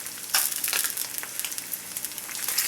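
Peppers sauté in a carbon steel pan with a steady, close sizzle and scattered crackling pops, without any talking.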